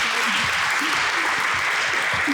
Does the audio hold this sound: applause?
yes